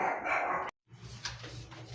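Dogs bark and yip in a quick, fairly close burst, stopping abruptly, then lighter barking and background noise continue.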